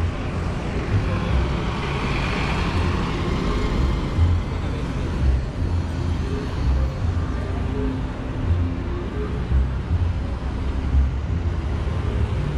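A city bus and street traffic in Mexico City rumble steadily, a continuous engine drone and road roar with passing vehicles throughout and no speech.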